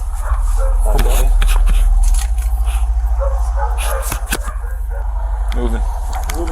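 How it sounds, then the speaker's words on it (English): Large dogs barking and whimpering during a police search warrant entry, their yips and barks heard amid a loud, rumbling background with voices present. "that sounds like bigger dogs"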